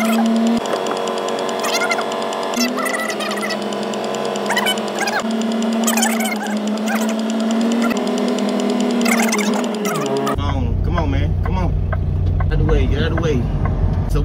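Semi truck backing up toward a trailer, its diesel engine droning steadily and close throughout, with the tone shifting lower near the end.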